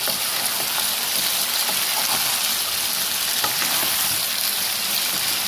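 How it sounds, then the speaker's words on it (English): Ginger fries for a mushroom and potato dish, giving a loud, dense, continuous sizzling hiss close by, steady throughout without talk. "Fry it for another 15 minutes"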